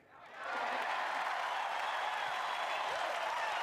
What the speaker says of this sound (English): Forced applause. Hope applause.